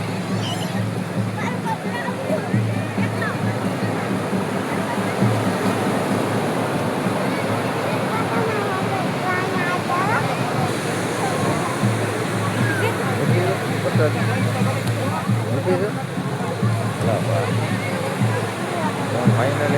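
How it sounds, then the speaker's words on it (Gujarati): Sea waves wash ashore at a beach during a Dashama idol immersion, a constant loud roar of surf and churning water with people talking over it throughout. "દરિયામાં પાણી આવે છે."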